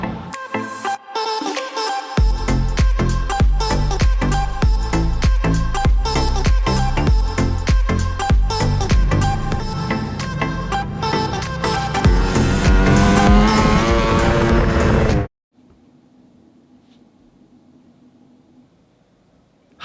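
A Ducati Panigale V4R superbike screams around a race track, its engine loud and close with rising and falling revs and gear shifts for about fifteen seconds before cutting off to a low background hum.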